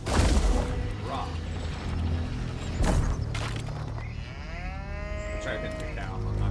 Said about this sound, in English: I'll try to hit the cow